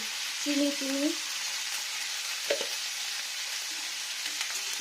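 Sugar fries in a pan with cauliflower for a vegetarian paneer dish, giving a soft, steady sizzle throughout, with a brief voice-like tone near the start and a faint clink partway through.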